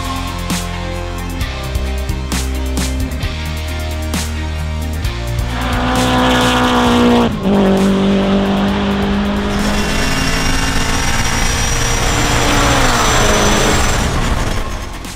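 Supercharged FA24 Toyota 86 race car engine at close range, first running in steady, pulsing revs, then climbing sharply to a high rev, dropping and roaring on loudly with a whining edge.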